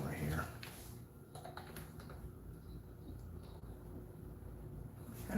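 Computer keyboard typing, a run of quick light key clicks at close range, fairly quiet, with faint background sound and a brief voice near the start.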